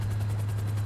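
A police helicopter in GTA V hovers close by, its rotor throbbing in a loud, steady low drone throughout the short moment, with no talking.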